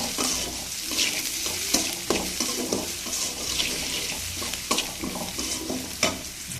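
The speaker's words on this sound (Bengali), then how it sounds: "এটাকে নেড়ে চেড়ে বেশ ভালো করে ভেজে নেব" Okra sizzling with salt and turmeric in a hot pan while a spatula stirs it, giving a dense, constant fry hiss broken by repeated scraping and clattering strokes at an uneven rhythm, close and fairly loud.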